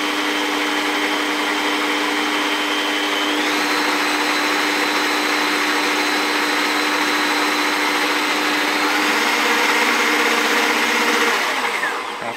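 A blender whirs loudly and steadily while mixing a juice of aloe vera, beetroot and honey, its motor pitch shifting slightly partway through before winding down at the end.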